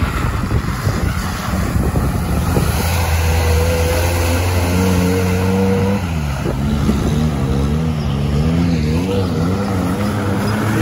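Several UAZ off-road vehicles racing in a traditional winter off-road race, engines droning loud and close with rising and falling revs under heavy wind noise, one engine's pitch climbing and shifting throughout.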